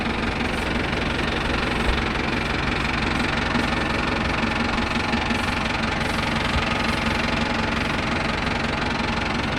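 A Mahindra Arjun Novo 605 DI tractor engine with a worn bearing runs loud and close, a steady mechanical drone with a persistent rapid knocking rattle through its length.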